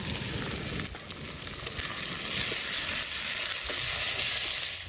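Ginger garlic paste mixed with cumin frying with onions in hot oil, giving a loud, continuous sizzle with stirring scrapes throughout and no voices.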